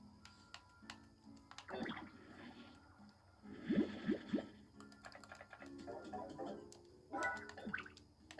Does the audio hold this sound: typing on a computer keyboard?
yes